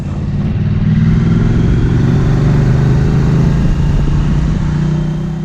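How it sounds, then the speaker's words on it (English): A Triumph Street Twin motorcycle engine drones steadily while riding, a loud, continuous mid-low rumble with a slight swell in pitch partway through and constant wind noise. "I'll leave pauses for the bike to make some noise"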